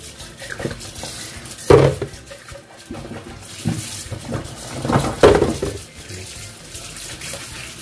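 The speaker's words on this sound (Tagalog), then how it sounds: "3 beses mo guys hugasan ng running water para tanggalan muna ng sabon-sabon." A baby feeding bottle rinsed under a running kitchen tap, with water splashing and plastic and utensils knocking against the sink in a few sharper clatters, close and alone.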